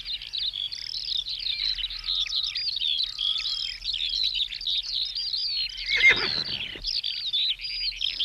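Small hedgerow birds, a chaffinch among them, chirp and trill steadily, their busy calls overlapping throughout; one louder, closer burst briefly stands out near the end.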